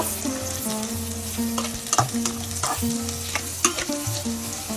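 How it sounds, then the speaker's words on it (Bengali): Onion, chili and salt fry in a pan with a steady close sizzle, broken by regular scraping and clinking as a utensil stirs against the metal. "এখন আমি সবগুলো ভালো করে ভেজে নিব"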